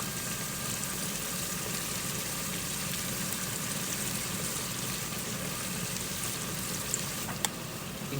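Onions frying steadily in a hot pan, a continuous close sizzle with no talking and one or two small pops near the end.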